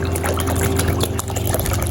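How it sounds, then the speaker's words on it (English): Warm water poured into a foot spa basin gives a steady splashing trickle, close and moderately loud, with a low constant hum underneath. "So I add more warm water guys."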